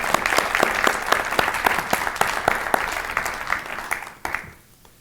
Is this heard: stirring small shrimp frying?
no